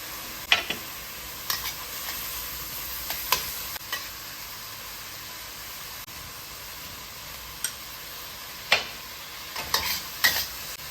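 Chopped pork fries with garlic and seasoning in a pan, a steady soft sizzle broken by occasional sharp scrapes and clinks of stirring.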